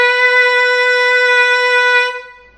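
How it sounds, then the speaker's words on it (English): One long, steady, buzzy saxophone note sustained for about two seconds and then cut off, played with the mouthpiece at its usual position, close and loud with no talking. "This is where I would normally play it."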